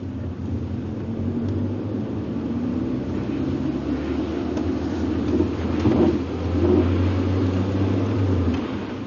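Car with shuttered windows driving through Transnistria, a steady low engine and road rumble heard from inside, swelling a little mid-way, with no talking.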